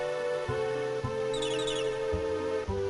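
Short, high bird chirps twitter briefly over a steady droning background with rhythmic low thumps, game ambience from Final Fantasy VI Advance.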